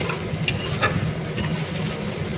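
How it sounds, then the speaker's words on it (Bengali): Ginger frying in oil for a potol aloo chingri curry, a steady soft sizzle with faint crackles and occasional stirring clinks, continuous and close. "আদাটাকে আগে ভালো করে ভেজে নিতে হবে"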